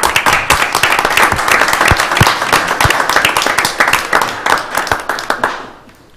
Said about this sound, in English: We can clap for that, I think, eh?